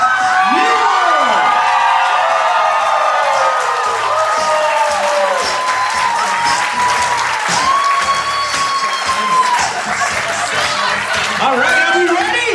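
Wedding reception guests cheer, whoop and clap as the maid of honor and best man are welcomed in, a loud, lively crowd with shouts and a voice talking over the sustained applause.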